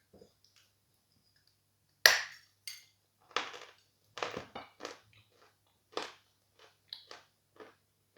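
Close crunchy bites and chewing of plombir ice cream with a firm coating: a sharp crunch, then a run of separate crisp chews in an uneven rhythm, with no talking.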